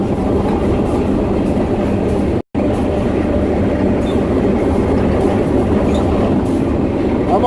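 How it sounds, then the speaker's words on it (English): Loud continuous rumble and rattle from riding on a freight train out of Barstow, California, heard up close from a car's exposed well, steady clatter with a brief dropout partway through. "in Barstow, I got on the wrong train"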